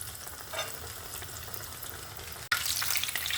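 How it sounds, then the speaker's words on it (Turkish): Eggplant slices frying in hot oil in a pan, a steady close sizzle that jumps louder and brighter partway through, with no talking. "Şimdi ikinci yüzünü kızartıyorum."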